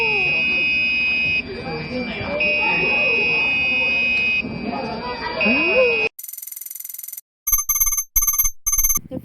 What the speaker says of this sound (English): listened as our melody played through the buzzer